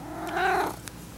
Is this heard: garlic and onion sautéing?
no